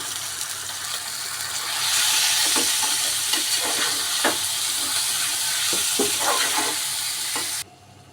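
Chicken keema frying in a pan sizzles steadily up close while a spatula stirs and scrapes in repeated strokes, growing louder after the first couple of seconds before cutting off abruptly at the end.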